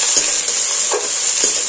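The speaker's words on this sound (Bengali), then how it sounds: "দিয়ে এটাকে আমি খুব ভালো করে ভেজে নেব।" Onion, green chillies and ginger paste fry in a pan with a little oil, a close, constant hiss of sizzling broken by three soft scrapes of stirring.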